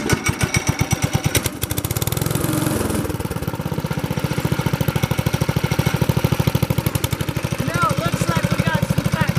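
Old International Harvester Cub Cadet lawn tractor engine running close by with a steady rapid putter, idling and then picking up speed, loud and continuous with faint voices in the background.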